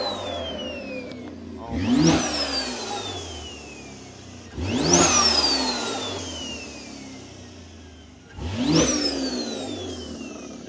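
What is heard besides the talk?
BMW X3M engine starting and revving with T51R mod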